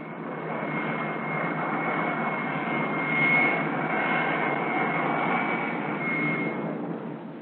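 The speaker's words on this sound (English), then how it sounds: "The catapult officer signals, "Run up your engine."" Steady, loud jet engine roar of a US Navy F9F Panther running up on the deck of the carrier USS Randolph before catapult launch, constant pitch with a faint high whine, swelling slightly midway, no voices.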